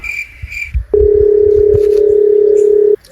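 A telephone number is dialed during a Gujarati comedy sketch: a couple of short electronic beeps come first, then a loud, steady phone tone holds for about two seconds before cutting off.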